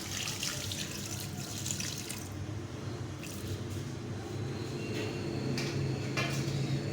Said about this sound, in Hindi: इसमें 2 गिलास पानी डालेंगे, छोटे से 2 गिलास।